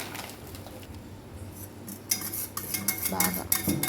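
A spoon clinks and scrapes against a bowl while ragi flour is mixed with water, the clatter growing busier and louder toward the end, close by.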